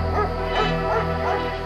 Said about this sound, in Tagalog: nagising siya sa walang tigil na mga tahol